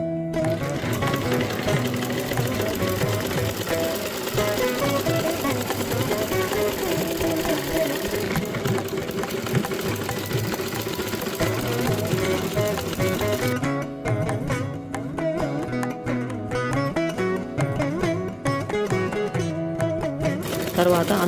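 A sewing machine stitches cut empty rice bags together into a mat, running continuously with a dense, rapid mechanical chatter throughout.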